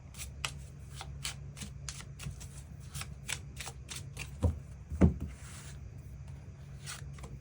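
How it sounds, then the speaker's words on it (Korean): Tarot cards being shuffled by hand, a close, quiet series of quick rhythmic riffles and snaps with a couple of sharper taps and no talking. "8번 분들 추가 카드로 일별로 월요일부터 일요일까지 어떤 하루하루를 보내게 될지 추가 카드 뽑아보도록 하겠습니다."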